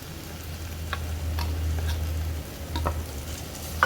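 Chopped coriander leaves stirred into a frying egg mixture in a pan give a steady low sizzle, with a few light scraping taps of the spoon scattered across it.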